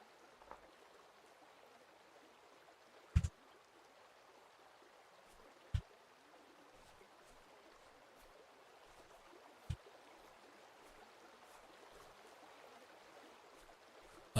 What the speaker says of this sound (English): I hear water, but I don't see it.